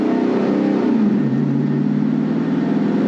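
A 1964 Oldsmobile Jetstar 1's 345 hp, 394 cubic inch V8 accelerating on the road, with a loud, steady engine roar that drops slightly in pitch as it pulls.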